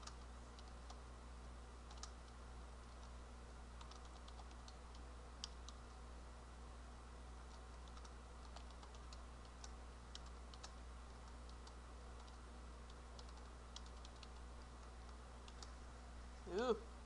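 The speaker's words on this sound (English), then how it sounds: "I want everybody to be typing this into their text editor right now." Middle school students type on computer keyboards in a classroom, scattered quiet key clicks ticking steadily over a low room hum, faint and continuous throughout, with a brief louder noise near the end.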